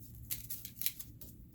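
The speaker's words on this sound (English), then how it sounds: "gonna shuffle again" Tarot cards are shuffled by hand in soft, quiet bursts of riffling and sliding, several brief rustles in close succession at low volume.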